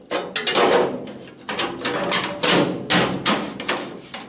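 A hammer beats a dent out of the steel body panel of a Citroën Traction 11B, about eight sharp metallic blows in uneven bursts, close and loud.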